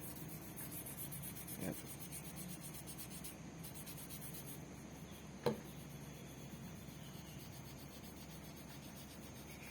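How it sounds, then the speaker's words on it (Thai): Steady abrasive rubbing on a rusty high-carbon steel knife blade, a continuous gritty scrubbing texture with a couple of sharper scrape accents, close and fairly quiet, no voices. "ขัดไปเรื่อยๆนะครับ"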